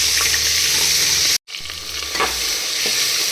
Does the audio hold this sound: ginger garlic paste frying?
yes